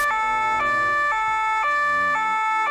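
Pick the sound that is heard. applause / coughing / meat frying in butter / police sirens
police sirens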